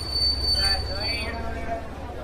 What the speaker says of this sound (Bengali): ট্রেন জাংশন স্টেশনে এসে পৌঁছল।